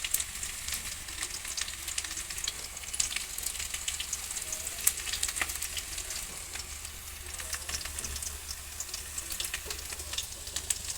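Potatoes frying in hot cooking oil, a steady close-up sizzle with fine crackles and occasional sharp pops, heard alone without any talking.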